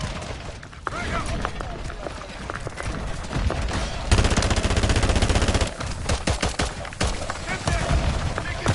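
Rapid automatic gunfire and bursts of shooting in the game Call of Duty: Modern Warfare III, loud and continuous through the whole stretch, mixed with combat sound effects.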